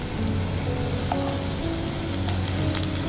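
Canned tuna dropped into a hot pan with spices sizzles and fries steadily, a constant crackling hiss with occasional stirring scrapes and clinks.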